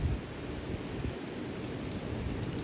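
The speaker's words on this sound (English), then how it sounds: "This rain is insane." Heavy rain pours down during a New Jersey storm with strong wind: a dense, steady roar of downpour outdoors, loud and continuous throughout, with no voices.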